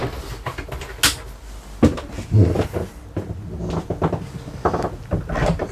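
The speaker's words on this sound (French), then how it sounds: "une grande douche avec des portes rigides en deux parties" Rigid two-part shower doors in a 2022 Mc Louis Mc4 273 camper van are worked open and shut, giving a series of sharp clacks and knocks with softer sliding and rattling between them, close and loud.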